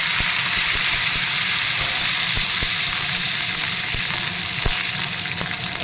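Cumin, green chillies and curry leaves hit hot oil for a drumstick curry, giving a loud, steady, close sizzling hiss with scattered tiny pops throughout.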